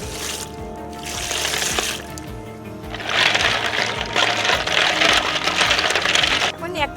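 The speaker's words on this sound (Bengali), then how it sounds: "এখন দিয়ে দিব ঠান্ডা জল।" Cold water pours into a big pot of snails, a steady rushing and splashing that swells louder halfway through, with rattling shell clatter and faint background sounds.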